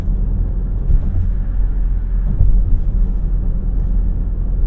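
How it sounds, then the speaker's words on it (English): A steady low drone and rumble comes from a 2025 Alfa Romeo Stelvio Tributo Italiano's 2-liter turbocharged four-cylinder engine while driving, heard from inside the cabin. "It's a 2-liter turbocharged 4-cylinder."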